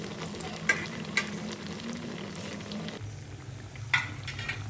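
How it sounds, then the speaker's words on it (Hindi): Bread pakora, potato-stuffed bread slices, frying in hot oil, a steady low sizzle with a few sharp crackles and pops, heard close and alone. "तो ऑयल भी गर्म हो चुका था तो मैंने ये फ्राई होने के लिए रख दिया।"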